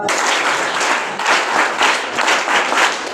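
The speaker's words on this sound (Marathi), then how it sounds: "त्यांच्यासाठी टाळ्या वाजवा" An audience at a school gathering applauds a police volunteer, a dense burst of close hand clapping that rolls on steadily for a few seconds in gentle surges.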